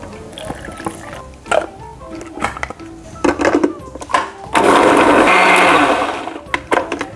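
A blender grinds shallots, candlenut, garlic, turmeric and chili with a splash of water, starting with short knocking pulses and then a loud, steady whirring run of a couple of seconds before stopping.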